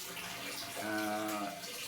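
A shower runs for a child, giving a steady hiss of running water that is fairly faint, with a brief tonal hum partway through and no talking.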